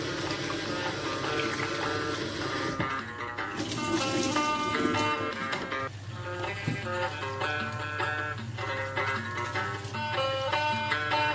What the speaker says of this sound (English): So I'm just going to wash my rice and cook that in the stock.